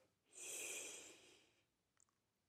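One deep breath during an exercise session, a slow breathy inhale-exhale of about a second and a half, close and soft, followed by a faint click.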